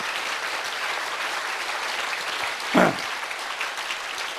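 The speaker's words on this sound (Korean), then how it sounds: "다시 한 박수로 주님께 영광 돌립니다." A church congregation applauds during a sermon, a steady wash of many hands clapping throughout, with one brief sharper sound standing out near the end.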